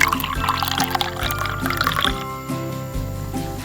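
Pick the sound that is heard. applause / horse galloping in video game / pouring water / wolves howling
pouring water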